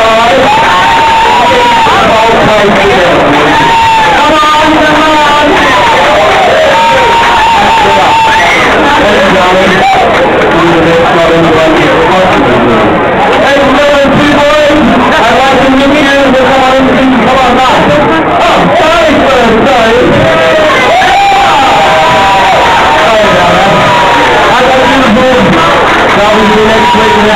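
A loud casino crowd at Caesars cheers, whoops and applauds for Mr. Ross, a dense, continuous wash of voices with speech mixed into the babble throughout.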